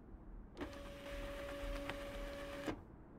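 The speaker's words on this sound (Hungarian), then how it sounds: "Kinyomtatjuk az e-mailt." An in-game printer in Life Is Strange prints an email: a steady mechanical whirr with a sustained tone runs for about two seconds, starting and stopping abruptly, fairly quiet and with no talk.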